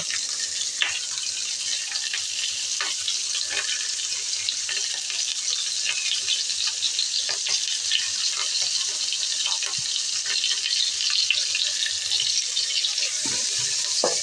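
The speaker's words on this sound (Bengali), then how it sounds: "এবার আমি পেঁয়াজ কুচানো দিয়ে দেব। ঝাল কুচানো দিয়ে দেব।" Chopped onions and green chillies fry in hot oil in a pan, a steady close sizzling hiss with scattered crackles and faint stirring clicks, no voices over it.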